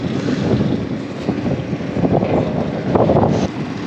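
Outdoor wind buffeting a microphone during air conditioner repair work, a steady loud rumbling roar with gusty surges lasting throughout, no talking.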